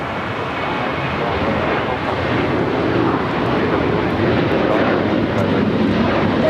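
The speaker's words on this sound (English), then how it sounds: "This is Alaska Airlines 1374 taking off to Loretto on the 737-900ER." Alaska Airlines Boeing 737-900ER jet taking off at LAX, a loud continuous broadband engine roar holding steady throughout.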